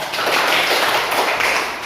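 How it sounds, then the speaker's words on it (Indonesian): Applause from a classroom audience for student groups during a teaching practice session, a dense, steady patter of many hands clapping close by for about two seconds. "Tepuk tangan untuk mereka."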